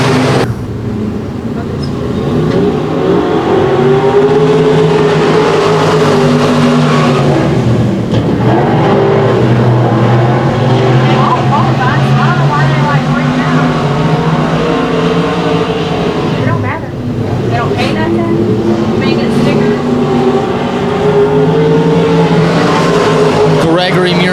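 Race cars roar around Boyd Raceway during a heat race, engines droning steadily and rising and falling as the pack passes, with an announcer talking continuously over the noise.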